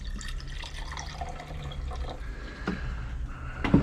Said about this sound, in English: So now I'm going to put some distilled water in there.